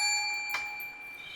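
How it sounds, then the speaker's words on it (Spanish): A single bell rings once to start a lesson, a bright, clear strike with a ringing tone that fades slowly in an otherwise quiet room. "empezamos al sonido de la campana"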